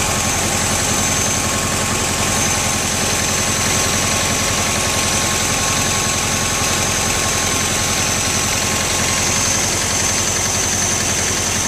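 A 1972 VW Westfalia engine idles with one valve tapping, a loud, steady, close mechanical drone that runs unbroken throughout, with no voices.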